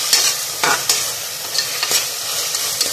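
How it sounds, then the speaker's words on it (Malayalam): Ginger garlic paste sautéing in a pan for a vegetable biryani, a steady hiss with a few sharp scrapes of stirring at close range and no voices. "അത് ജിഞ്ചർ ഗാർലിക് പേസ്റ്റ് ചേർത്ത് കൊടുക്കും. ജസ്റ്റ് ഒന്ന് വാട്ടിയെടുക്കാം"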